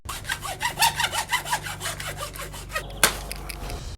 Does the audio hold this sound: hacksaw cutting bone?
yes